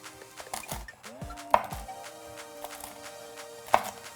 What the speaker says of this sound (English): You can just use your knife like this. Chop it up very coarsely.